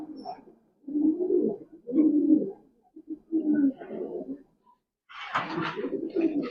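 Pet pigeons on a small farm coo in soft, low repeated bursts with short pauses between, close by, with a brighter wing flutter or call near the end.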